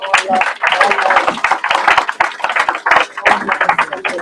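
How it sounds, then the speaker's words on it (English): An audience at a Barbados nationhood panel discussion breaks into applause for the panel, a brisk crowd clapping that runs under a voice talking over it. "a big round of applause for our panel"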